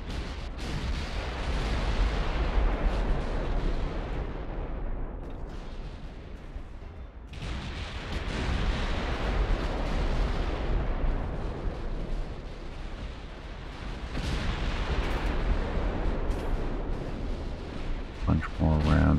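Naval shellfire in the video game Ultimate Admiral: Dreadnoughts booms in a heavy, continuous barrage of blasts and rumbles through a battle with battle cruisers, while someone talks over it.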